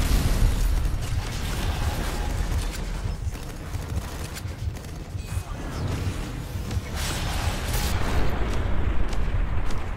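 Gunfire in the action video game RUINER, a dense continuous barrage of bursts and booms blended with game effects, loud and sustained throughout.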